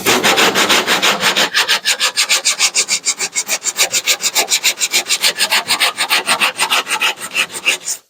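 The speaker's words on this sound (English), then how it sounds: "and then I'm gonna come around on the other side, sand back toward me" Bondo body filler on a car's rear quarter-panel dent repair is hand sanded with fast, regular back-and-forth strokes, a loud, close, rhythmic rasping scrape that continues steadily throughout with no talk.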